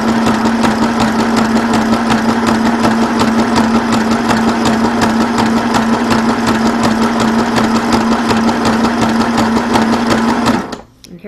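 A Janome Sew Mini sewing machine stitches steadily at close range, its rapid mechanical whir and needle rhythm running loud and unbroken for about ten seconds before stopping abruptly.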